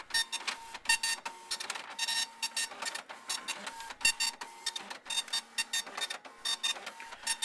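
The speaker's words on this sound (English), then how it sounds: "you can do a draft mode printout by doing line feed power on" Epson LQ-500 dot matrix printer running a draft mode printout: bursts of rapid buzzing print-head chatter separated by short gaps for line feeds, fairly quiet and steady with no voices.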